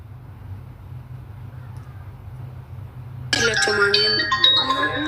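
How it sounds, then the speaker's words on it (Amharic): An incoming phone call's ringtone cuts in abruptly after quiet room hum, a bright melodic electronic tune playing loudly and close for the final seconds. "ስልክ እየገባ"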